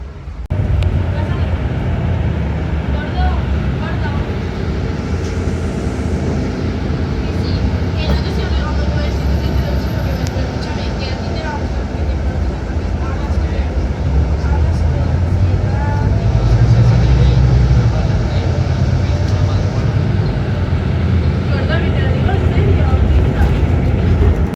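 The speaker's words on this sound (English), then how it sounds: "That's the bus," An L95 city bus drives along a street in Castelldefels, its steady engine rumble and road noise filling the scene continuously, with people talking nearby over the drone.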